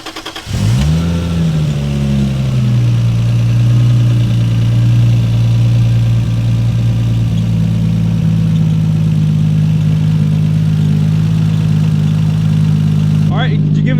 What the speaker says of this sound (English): you mind turning the car on for us real quick?